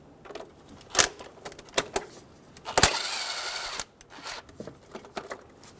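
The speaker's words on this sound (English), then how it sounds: "loosen the clamp on the throttle body." A 10mm socket ratchets as a throttle body clamp is loosened on a Toyota Tacoma 2.7L engine, giving close, sharp metallic clicks and a short burst of rapid ratcheting amid small clanks, with no voice.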